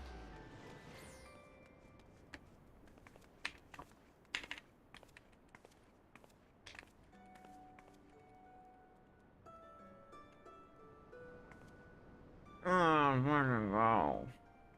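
Computer keyboard keys tap in short, scattered bursts at low level, followed by a loud voice speaking briefly near the end.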